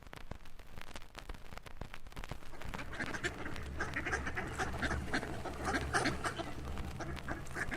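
Ducks quack repeatedly in a lively bayou garden where chickens also roam, the calls fairly close and overlapping over a steady low rumble of background noise.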